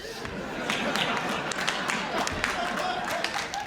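Audience at a stand-up comedy show clapping and cheering in a steady, dense wash of applause that holds throughout.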